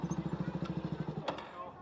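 A motorcycle engine idles with a steady, rapid thumping beat while being parked at the Roots festival in Assam, then the pulsing stops and the engine fades out after about a second.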